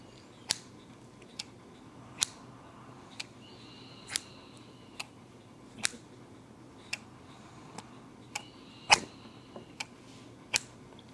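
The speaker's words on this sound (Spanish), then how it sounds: "Nuestro segundo objeto son unas tijeras." Scissors handled up close for ASMR, giving a string of crisp, isolated clicks and snips spaced about a second apart over a faint hiss, with one louder snap near the end.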